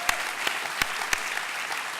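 A church audience offers a few sparse, sharp claps, four distinct hits spaced evenly over a quiet room background.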